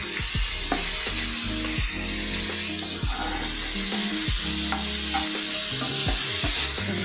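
Prawns sizzle in a pan of frying mukhi kochu (taro) while a spatula stirs and scrapes in a steady rhythm, with a continuous close, loud crackle and no talking.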